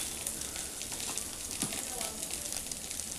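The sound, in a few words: turmeric and chilli powder spices sizzling in the pan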